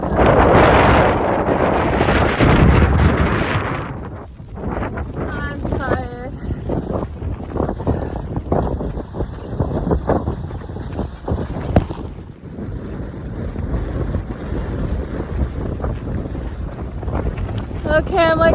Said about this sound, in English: The wind has been coming right at me